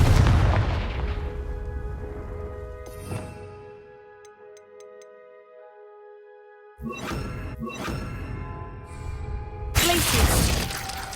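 Confringo fire spells erupt in the Hogwarts Legacy video game as loud, rumbling blasts at the start and again near the end, with tonal ringing and ticking chimes in a quieter stretch between them.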